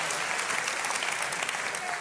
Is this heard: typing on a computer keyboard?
no